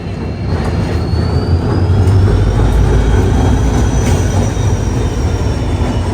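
The Avadh Assam Express, running between Lalgarh and Dibrugarh, makes a loud, steady rumble from inside, with a thin wheel squeal drifting above the roar and no voices.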